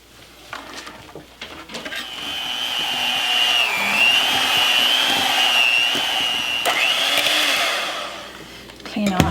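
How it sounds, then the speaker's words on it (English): A handheld electric mixer runs in a home kitchen while making an orange creamsicle cheesecake, with a steady, loud whirring whine that ramps up, holds with slight pitch wobbles for several seconds, then winds down. "So I'll just turn on that mixer."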